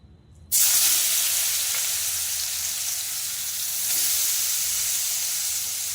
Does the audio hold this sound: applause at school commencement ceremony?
no